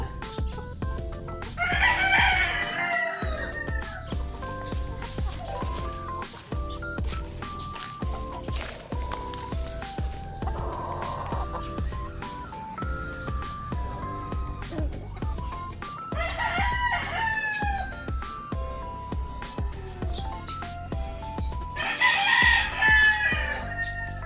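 Five-month-old gamecock stag crows several times, loud and near, over a busy yard of clucking fowl and occasional footsteps.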